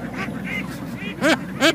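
Ducks at a floating duck farm give a few separate nasal quacks, two louder calls near the end, close by against a low background hum.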